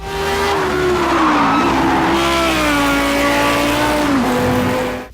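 Racing cars in Project Cars 2, a loud, close engine drone with rising and falling pitch as the car accelerates and shifts, tires squealing through corners, with no talk.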